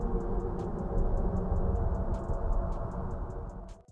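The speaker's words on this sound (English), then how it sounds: "spacecraft like NASA's Juno have detected and recorded electromagnetic waves in" Jupiter's magnetosphere electromagnetic waves recorded by the Juno spacecraft and converted to sound: a dense roaring hiss with a steady series of regular ticking pulses, loud and continuous before cutting off.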